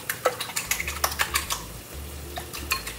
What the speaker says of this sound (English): I'm just gonna beat some eggs